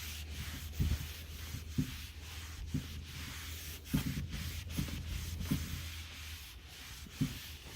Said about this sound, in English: I'm just taking an old shirt and wiping across.